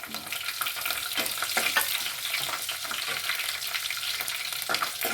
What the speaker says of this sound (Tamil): நான் காஞ்ச மிளகா ஃபுல்லாக கொட்டிக்கிறேன்.